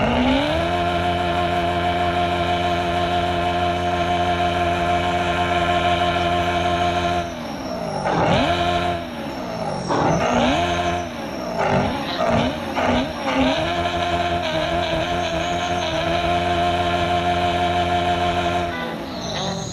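A car engine in the Car Parking Multiplayer game idles with a steady harmonic drone, then revs hard in repeated rising and falling sweeps before settling back to a constant hum.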